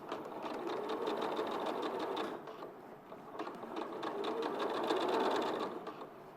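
A sewing machine stitches fabric in a steady, close whirr that dips briefly midway, then runs on evenly, with no talk.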